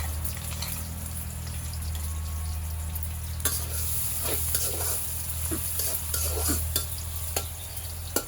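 Chopped onions sizzle in hot oil in a pan for a banana-stem fry, a steady frying hiss with scattered sharp stirring clicks and scrapes, close and fairly loud, with a low hum beneath and no talk.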